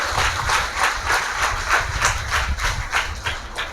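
Audience clapping together at a church consecration festival, a dense steady round of applause from a crowd, fairly close and continuous with no talk over it.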